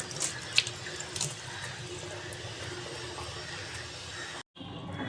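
Vegetables being rinsed under a steady stream of running tap water at a kitchen sink, a continuous close splashing hiss with a brief break near the end.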